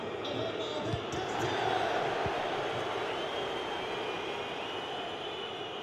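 A football stadium crowd roars in the stands after Stade Brestois equalise against Lille, a broad, steady wash of massed voices that swells slightly and stays loud throughout, with commentary faintly underneath.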